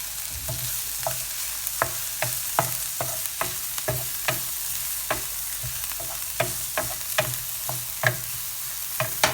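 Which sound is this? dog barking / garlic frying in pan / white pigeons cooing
garlic frying in pan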